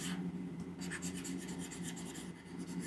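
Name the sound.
stylus drawing on a graphics tablet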